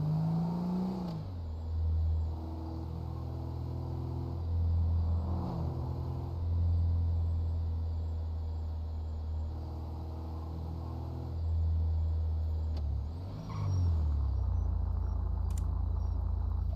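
A car in an SLRP role-play video game drives past, its engine rumbling loud and near, revving and surging repeatedly over many seconds with shifting pitch, without any talking.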